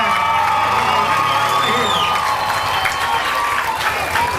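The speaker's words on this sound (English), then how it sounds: "Give them a round of applause and really let them hear it." A crowd at a Columbiana County demolition derby applauds and cheers steadily, with dense clapping, whoops and shrill whistles blending into one loud, continuous roar.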